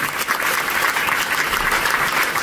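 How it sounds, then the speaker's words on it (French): Audience at an awards ceremony applauding, a dense, steady clapping from a crowd that fills the whole stretch without pause. "vais appeler monsieur Ali Sidou de Trusted, s'il vous plaît, sous vos applaudissements."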